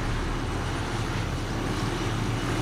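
A helicopter in the Modern Warfare video game during co-op play gives off a steady, loud, dense rotor-and-engine roar that fills the whole stretch without a break.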